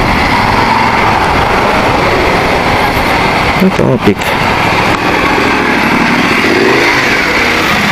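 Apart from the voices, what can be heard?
motorcycle engine running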